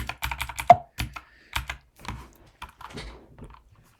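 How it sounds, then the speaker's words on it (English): Vi editor commands being typed on a computer keyboard: a run of crisp, close keystrokes in quick bursts, then scattered separate presses with short pauses between them, heard alone. "I'll press a 7 from the keyboard, 7 and then G"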